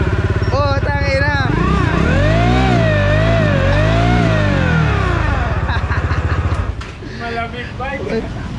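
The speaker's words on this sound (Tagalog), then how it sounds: "Mala big bike. Pang big bike kaya. Pang big bike ang tunog." A Bajaj Dominar 400 motorcycle engine revs up and down in several long, loud, close swells with rising and falling pitch, then settles toward idle, while someone talks and exclaims over it.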